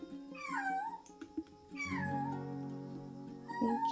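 A small, timid kitten at a veterinary hospital gives two drawn-out, wavering meows, loud and close, each falling in pitch. A short squeak follows at the end.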